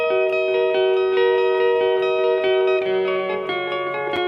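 Distorted electric guitar chords ring out with transistor tape-style delay repeats trailing behind each note, giving a spacious, echoing wash.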